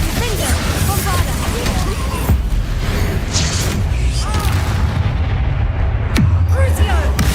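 Bombarda and Confringo spell explosions in the Hogwarts Legacy video game, a dense run of booming blasts with falling whooshes layered over loud combat noise and speech.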